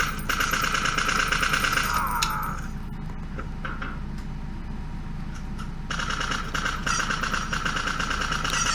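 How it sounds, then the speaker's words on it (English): Rapid automatic weapon fire in a first-person shooter game, loud and continuous bursts at the start and again near the end, with a quieter gap between them, no talking. "just to kind of emphasize that the player is shooting a weapon"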